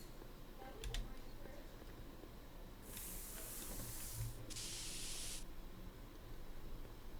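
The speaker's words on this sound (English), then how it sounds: "Spray paint can." Spray paint can hissing in the Back to the Future video game, two bursts of sharp spraying hiss, the second a bit shorter, over a low ambient game background.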